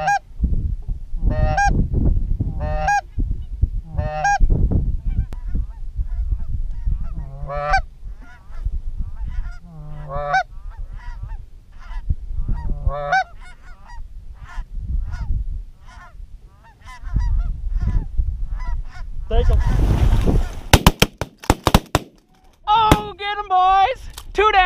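Geese honk repeatedly during a goose hunt in Colorado, bursts of calls recurring throughout alongside low rumbling and wind, with a harsher cluster of loud honks near the end.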